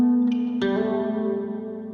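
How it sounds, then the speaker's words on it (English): Electric guitar notes ring out, then a strummed chord blooms into a long, shimmering wash of plate reverb, with stereo chorus, that sustains and slowly fades. "Plate reverb."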